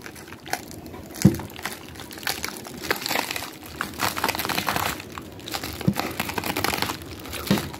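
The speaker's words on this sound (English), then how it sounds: "I'm gonna be opening the package with this X-Acto knife." An X-Acto knife slices open a shipping package, giving close crinkling, tearing and crunching of packing material with a few sharp snaps, and no talking.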